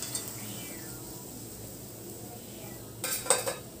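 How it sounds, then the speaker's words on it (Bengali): Fried potato semolina fingers lifted from hot oil onto a plate, a faint steady sizzle followed by a short burst of metal-on-dish clinks near the end, with no talk. "এখন এগুলো আমি প্লেটে উঠিয়ে রাখছি"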